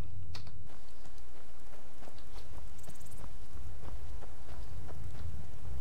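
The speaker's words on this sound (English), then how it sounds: "You're still standing out here in the rain, huh?" Rain in the video game Skyrim, a steady patter of drops with scattered sharper taps and soft footstep-like knocks, close and even throughout, no talking.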